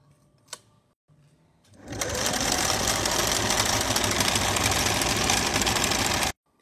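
A sewing machine stitches shalwar fabric, starting after a couple of faint clicks and running loud and continuous for several seconds with a fast mechanical whir before stopping abruptly.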